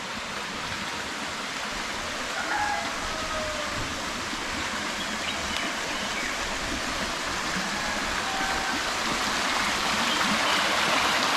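Clear water flowing in a stream at a village near Ratnagiri, a steady broadband rushing and gurgling that holds at an even level throughout with no voices.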